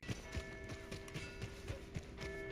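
Horse hooves clip-clop in Red Dead Redemption 2, a steady rhythmic series of soft, muffled hoofbeats at walking pace, fairly quiet against a faint tonal background hum.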